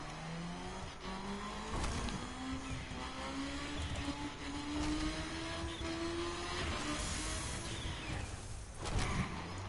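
A racing video game car engine roars steadily at high revs, with a rising whine as it accelerates under nitrous along a straight, a continuous loud motor drone with faint tire noise throughout and no voices.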